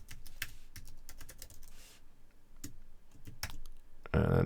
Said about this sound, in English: Then you type in the web address